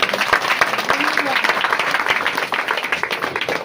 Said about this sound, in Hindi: जोरदार ताली बजा के परमेश्वर